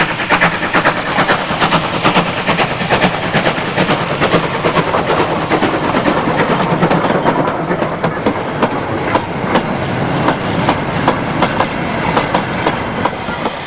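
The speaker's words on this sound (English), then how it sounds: "49395 appears again, this time at Green End with wagons in tow" British steam locomotive 49395 hauls a train of wagons at Green End, a steady loud rumble with continuous rhythmic clickety-clack of the wheels running close by throughout.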